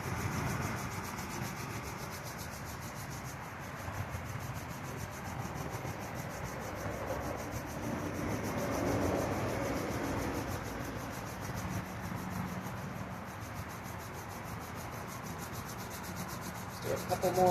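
Palms rubbing briskly together to warm the hands before a breathing practice, a steady close swishing friction that runs for the whole stretch with no talking.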